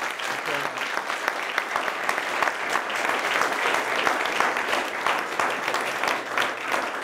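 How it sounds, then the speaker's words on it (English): Audience applause after a wildlife and ecosystem lecture, sustained dense clapping from a sizable crowd, evenly loud and continuous for several seconds. "Let's give Peter a big round of applause for that."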